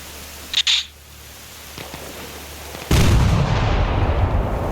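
A quiet stretch broken by a sharp crack and a faint thump, then a loud rumbling blast of explosive gunfire that keeps churning to the end, in the video game Arma Reforger.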